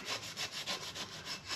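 Hand sanding on a dune buggy body before painting, quick rhythmic back-and-forth scrubbing strokes, close and steady, about eight passes with no talking.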